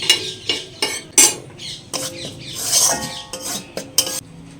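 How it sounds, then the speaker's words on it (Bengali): Cashews and almonds stirred in a pan of hot ghee, giving close, irregular scrapes and clinks of a spatula against metal over a soft frying sizzle, with no talking. "এই ঘির মধ্যে দিয়ে হালকা করে ভেজে নেব"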